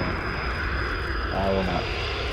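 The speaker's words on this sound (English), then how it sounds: "That's our VTOL." A VTOL aircraft passes overhead in Call of Duty Modern Warfare, a steady loud engine roar and whine that fills the scene without letup.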